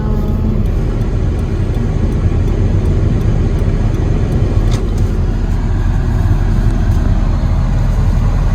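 A car being parked gives off a loud, steady low engine and road rumble from inside the cabin with a faint high whine and no talk.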